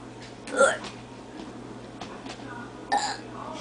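Two short burps from a child reciting the Pledge of Allegiance, one loud and close near the start and a second fainter one about two seconds later, over quiet room tone.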